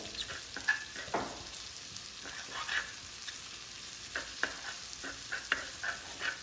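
Pickle ingredients being stirred and mixed by hand in a pot, giving soft scraping and sizzle-like rustling with scattered louder spoon knocks, fairly close, with no talking.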